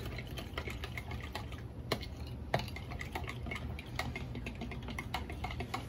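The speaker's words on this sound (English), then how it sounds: "Give that a little stir with your fork." A fork stirs garlic into a curry in a pot, making light, rapid clinks and scrapes against the cookware at close range with no voices.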